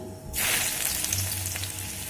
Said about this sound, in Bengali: তেলটা গরম হয়ে আসছে এখানে ফোড়নে দিয়ে দেবো দুটো শুকনো লঙ্কা আর দেব হাফ ইঞ্চি মতো আদা কুচি